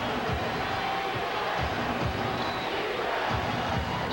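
A basketball arena crowd at an NBA game, Grizzlies at Kings, makes a continuous roar of cheering and noise, a dense steady wash from a large audience with no clear voices on top.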